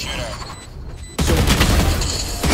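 Valorant gunfire in a match on the Haven map, a sudden loud burst of rapid shots that follows a quieter stretch of in-game ambience and rings out close and dense to the end.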